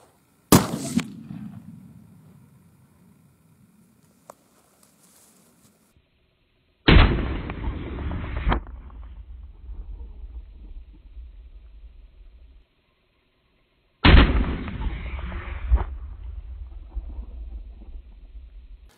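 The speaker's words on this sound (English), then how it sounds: "So now we're ready to fire. First off, let's shoot it over a chronograph" A homemade blunderbuss fires three loud, close, sharp shots over a chronograph, each blast followed by a rumbling tail, spaced several seconds apart with quiet between.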